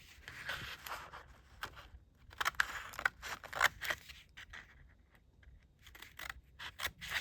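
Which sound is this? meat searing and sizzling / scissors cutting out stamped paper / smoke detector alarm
scissors cutting out stamped paper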